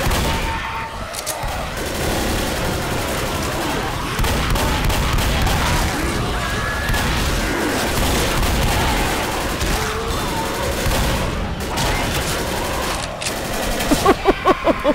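Video game combat with a grenade blast amid dense gunfire and booms, loud and continuous, with sharp rapid shots near the end.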